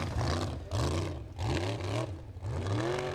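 An off-road racing car at the Formula Offroad World Cup strains up a final climb, its engine roaring in repeated revving surges with clattering, not sounding fully healthy.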